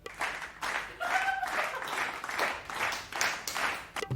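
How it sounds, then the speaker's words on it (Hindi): Clapping in a comedic sketch, several uneven bursts of hand claps at fairly low level, rising and falling in loose clusters over a few seconds. "ताली बजाते हैं ये"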